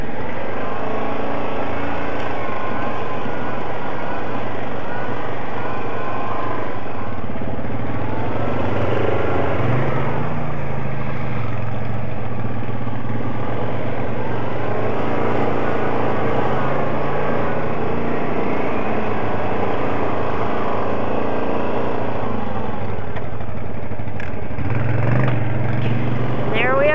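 An engine idles down in a continuous, fairly loud drone with slow shifts in pitch, running steadily under occasional talk for the whole stretch.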